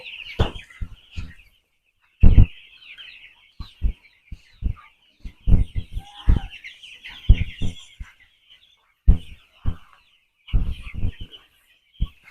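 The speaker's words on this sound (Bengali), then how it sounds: "এখানে আটশো মুরগি আছে" Broiler chickens on a poultry farm cluck and chirp in frequent short, high calls, with near thumps and handling knocks scattered throughout and quiet gaps between bursts.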